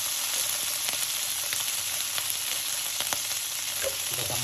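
Garlic and cherry tomatoes sauté in a pan with a steady, soft sizzle and occasional stirring clicks, with no voices.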